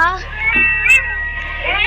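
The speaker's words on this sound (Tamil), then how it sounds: "பூனை கத்துற சவுண்ட் கேக்குது" A cat meows in a game, with high, wavering cries rising over a person talking close by.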